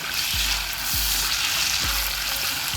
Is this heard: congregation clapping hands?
no